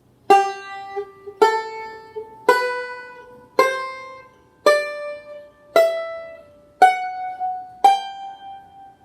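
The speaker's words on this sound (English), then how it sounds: "I'll just pick out the scale on the first string" Eight plucked banjo notes on the first string ring out one at a time at a steady, unhurried pace, stepping up a scale, each bright attack decaying before the next.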